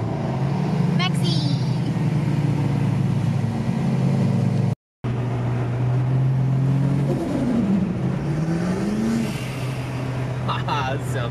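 A 630-horsepower turbocharged Ford Falcon race car drones loud and close with a steady engine tone, then revs and shifts pitch as it accelerates during a morning drag racing session, briefly cutting out midway, with voices talking over it.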